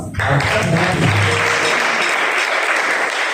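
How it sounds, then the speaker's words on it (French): A church congregation bursts into dense, loud applause for Ramatou, a sustained wash of many hands clapping that continues steadily, with a voice briefly heard at the start. "Applaudissez maintenant pour Ramatou."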